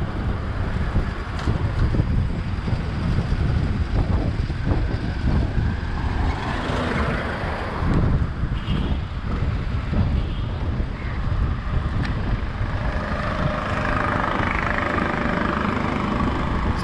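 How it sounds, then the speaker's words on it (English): Steady wind buffets the microphone in low rumbling gusts on a Mombasa city street, continuous throughout, with faint background noise and no clear voices. "can you hear the wind? Little bit windy."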